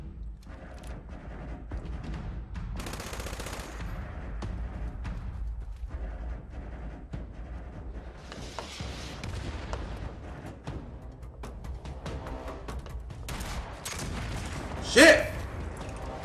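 Gunfire in a Fallout 76 game trailer rattles and booms at moderate level beneath continuous talk and music, with scattered shots and one sharp, louder blast near the end.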